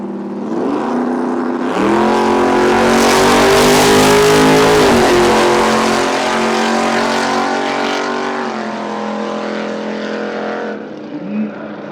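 A 1989 Ford Mustang Fox body makes an exhibition drag run, its engine roaring loud and close as it revs and accelerates hard for about ten seconds, pitch rising through the gears before it fades away.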